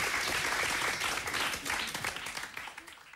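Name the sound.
studio audience applause for Blümchen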